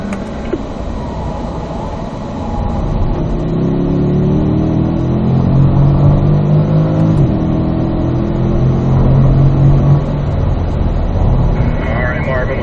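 A Corvette engine accelerating around a race track on a driving-school run: a loud, sustained drone whose pitch climbs and shifts as the car pulls through corners, heard from inside the car.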